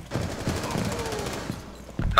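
Short bursts of automatic gunfire rattle outside a chalet during a Terrorist Hunt match in Rainbow Six Siege, several rapid volleys popping at mid distance with a sharper, louder shot at the very end.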